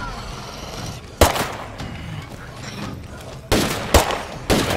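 Gunfire from a zombie survival video game: four sharp shots or short bursts, one early and three close together near the end, over a low background murmur.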